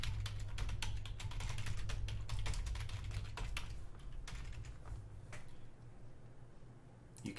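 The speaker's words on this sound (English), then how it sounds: "So you can type in your own code." Steady computer keyboard typing as code is entered, a rapid, irregular run of close, crisp keystrokes with no talking, thinning out toward the end.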